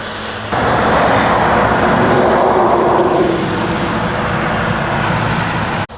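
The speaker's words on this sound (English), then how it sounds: "This thing even sounds like my 2015 Civic" A Honda Civic engine kicks into a loud, steady idle after a brief quiet start, a close, continuous low rumble running for several seconds before cutting off abruptly.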